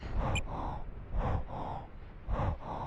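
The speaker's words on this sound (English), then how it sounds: "Like, that sound is creeping me out. Like, the breathing." Eerie, heavy breathing in the video game Baroque repeats in a slow rhythm, with three drawn-out rasping inhale and exhale cycles, close and moderately loud, with no talking.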